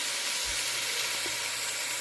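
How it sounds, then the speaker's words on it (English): Onions, garlic, red pepper strips and sweet potatoes sauté for Thai sweet potato soup, giving a continuous, even, moderately loud sizzle with a faint low hum beneath and no talking. "We're going to saute this up for a little"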